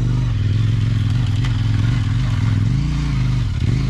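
A dirt motorcycle on Mitas E07 tyres climbs a wooded trail hill in first gear, its engine droning loud, close and continuous with small rises and dips in pitch as the throttle works.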